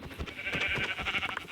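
Minecraft sheep bleat faintly and repeatedly against a busy, steady game soundscape, with a few soft clicks and rustles from play mixed in.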